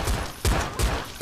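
Pistol gunfire in the video game Seal Hunter: a rapid burst of loud, close shots, with three sharp bursts spaced about a third of a second apart.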